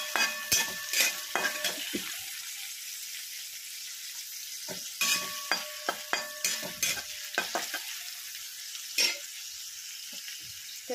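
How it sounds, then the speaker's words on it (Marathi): Onion sautéing over a high gas flame in a pan, with a soft background sizzle broken by repeated scraping stirs and clinks of a spoon against the pan, close and irregular. "तर गॅस फुल करून कांदा छानसा असा परतून घेणार आहोत."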